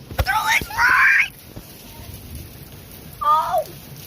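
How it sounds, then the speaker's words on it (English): Heavy rain pours during a severe thunderstorm with lightning, a steady close hiss under repeated loud excited shouts from a person. "there's rain, there's a thunder, there's lightning."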